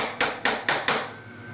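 A hammer drives small 3/4-inch pins into the back panel of a wooden shelf, four sharp evenly spaced taps close up, then a brief ringing tail.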